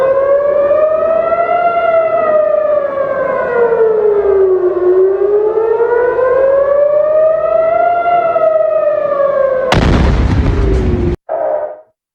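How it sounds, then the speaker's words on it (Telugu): Air raid sirens in Israel wail loudly, rising and falling in long, slow sweeps, then a sudden loud, broadband blast cuts in near the end, followed by a brief burst and silence. "సో ఒకసారి అక్కడ ఎటువంటి సైరన్స్ మోగాయో చూద్దాం"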